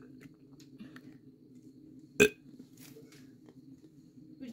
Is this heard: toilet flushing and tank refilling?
no